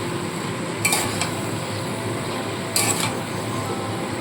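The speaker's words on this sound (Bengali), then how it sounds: "দেখুন সমস্ত সবজি দিয়ে দিয়েছি একটু নাড়াচাড়া করে নিয়ে" Vegetables, including ridge gourd, sizzle gently in a pan for a hilsa fish head curry under a steady hiss, broken by two brief metallic scrapes of stirring.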